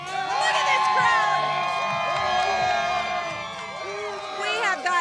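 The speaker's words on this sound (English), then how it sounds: "It has been so much fun hanging out with this rowdy crowd" A rowdy crowd of Arizona Diamondbacks fans cheers and whoops outdoors along a street before World Series Game 3, loud sustained shouting and yells blending into a dense roar.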